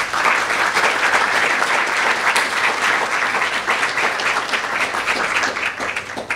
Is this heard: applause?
yes